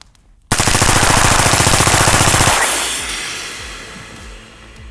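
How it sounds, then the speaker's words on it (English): Full-auto gunfire through an extremely long 25-yard suppressor: a loud, rapid, evenly spaced burst lasting about two seconds, then a rushing tail of residual noise and echo that slowly fades. "Full auto on our world record 25-yard suppressor."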